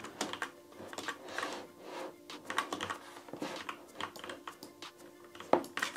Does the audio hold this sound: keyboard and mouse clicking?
yes